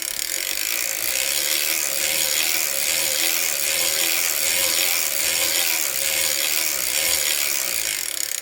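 Circular sock knitting machine being cranked through rows of yarn, a steady rhythmic ratcheting clatter repeating about every second, close and continuous without talk.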